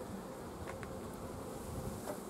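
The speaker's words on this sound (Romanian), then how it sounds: "albina este într-o zarvă continuă" Honeybees at the hive buzz in agitation, a faint, continuous droning hum with no voices.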